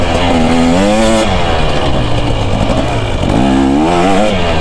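A 2024 KTM 250 SX two-stroke dirt bike is ridden hard, its engine loud and close, rising and falling through revs with a ringing, buzzy pitch that climbs, drops off and climbs again.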